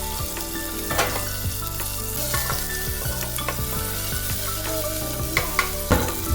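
Sliced onions and cumin seeds sizzling in hot oil in a pan, a steady close crackle and hiss with scattered sharp pops and occasional scraping knocks, no voices.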